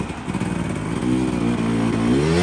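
A small trail motorbike on a spring trail ride, its engine droning and revving up steadily, close and fairly loud.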